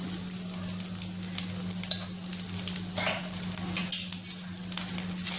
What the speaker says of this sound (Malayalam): നമുക്കതൊന്ന് നല്ലതുപോലെ ഒന്ന് ബ്രൗൺ കളറാവുന്ന വരെ ഒന്ന് വറുത്തെടുക്കാം